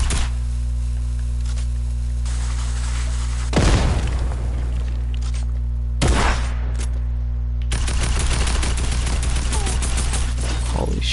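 Video game gunfire: bursts and sharp shots crack out at intervals over a steady low drone, some louder and closer, ending in denser rapid fire.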